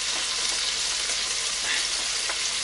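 Minced lamb fries in a pan for a keema curry, a steady, dense sizzle close up with no voices.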